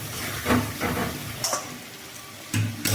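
A spice paste for mutton curry, made without onion or garlic, is stir-fried in oil. Faint sizzling runs underneath, broken by short scraping and ticking stirring strokes in an uneven rhythm, close by.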